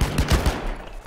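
Gunfire in the video game Last Man Standing: a short, loud burst of several rapid shots close together, fading into a brief tail, with no talk.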